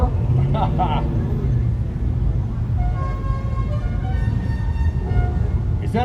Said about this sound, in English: Is that a Dodge Charger?